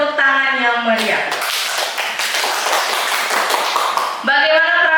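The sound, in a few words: audience applause for teacher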